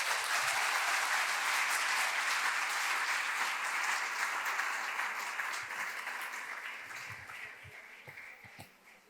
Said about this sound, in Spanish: Dale un aplauso fuerte pues al Señor